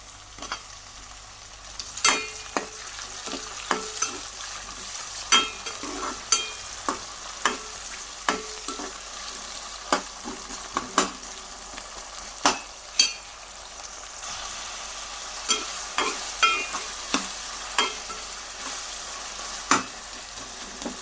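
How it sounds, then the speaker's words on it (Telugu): Tomatoes fry in a pan under a low, continuous sizzle, while a spoon scrapes and knocks against the metal in irregular sharp clacks throughout, close and clear with no talking. "టమాటాలు కూడా కొంచెం మజ్జి వరకు వేయించుకోవాలి పచ్చిపోయే వరకు"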